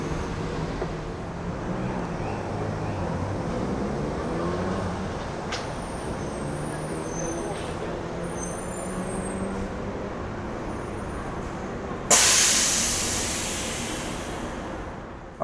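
Steady rumbling of the Miami People Mover, a small automated pod train, passing through an elevated station, a continuous mid-loud rolling drone that ends with a sudden burst of hiss.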